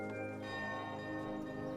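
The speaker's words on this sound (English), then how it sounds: "Another ring of the bell." A bell rings in the medieval strategy game Kingdom: Two Crowns, its sustained metallic tones blending with layered game music and ambience at moderate level, no speech.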